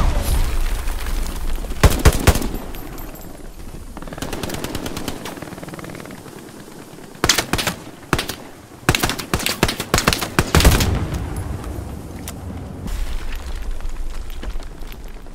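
Grenade blasts and heavy gunfire in the WWII shooter Hell Let Loose, with loud automatic bursts and several sharp booming explosions clustered near the start and middle, under a steady rumble of distant battle.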